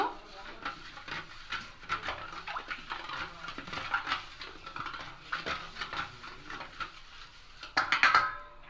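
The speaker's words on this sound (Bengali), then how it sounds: "এবার এটা ভালো করে মিশিয়ে নেব" A spoon stirs breakfast batter with sugar in a bowl, making quiet, irregular scraping and tapping clicks against the sides that continue steadily and grow a little louder at the end.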